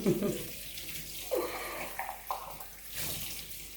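Plates washed under cold running water from a tap, a close, fluctuating rush and splash of water with a few clattering surges as dishes pass through the stream.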